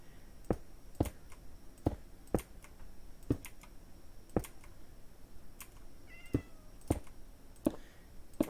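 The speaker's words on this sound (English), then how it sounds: "Did somebody at Mojang have cats and they recorded them?" Repeated cat meows from the game Minecraft, heard alone with loud sharp keyboard clicks and typing tapping in an irregular rhythm throughout.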